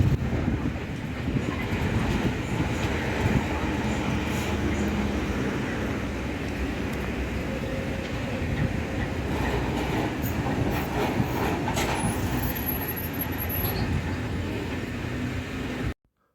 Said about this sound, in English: there it is, the 55-year-old Duewag GT8 Pendel at the Leo terminus of the line